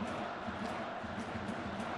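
A crowd at a baseball stadium in Japan, during an MLB Japan All-Star Series game, roars and cheers in a steady, dense wash of noise for the whole stretch, with no single voice standing out.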